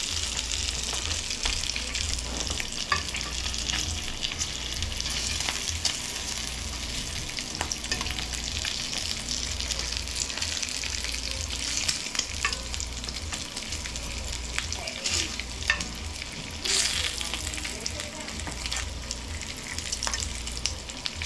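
Maple flavored bacon fries in a pan, with a steady crackling sizzle and occasional stirring or scraping over more than twenty seconds, close up, with no talking.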